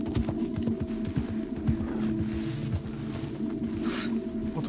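Horse hooves clip-clopping at a steady trotting rhythm in Red Dead Redemption 2, close and continuous beneath low game ambience, with no talk.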